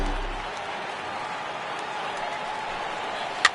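A baseball stadium crowd of over 39,000 at a Dodgers–Braves game, cheering and applauding as a broad, steady wash of distant noise, with one sharp clap standing out near the end.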